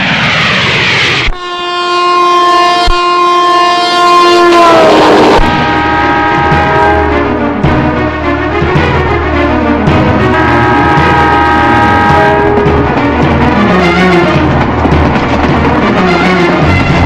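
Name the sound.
passing train with horn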